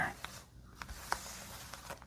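Two small decks of standard playing cards spread and swirled across a table by hand, giving soft, scattered scraping and sliding rustles with a few brief sharper flicks, close and quiet.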